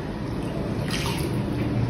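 A cup of water poured into a cake mix bowl already holding vegetable oil makes a soft, continuous liquid trickle and gurgle close by, steady for about two seconds with no talking.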